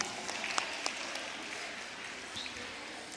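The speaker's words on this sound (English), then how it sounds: "Let's clap for her, please." At a women's forum, an audience claps for an honoree, a soft, even round of applause with a few sharper nearby claps at the start, fading gently.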